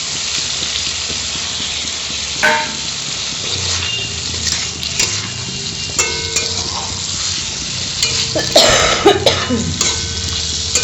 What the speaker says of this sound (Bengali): দেখো আলুটা দিয়ে মশলাটা ভালো করে কষানো হয়ে গেছে এখন এই বেগুনটা দিয়ে দিলাম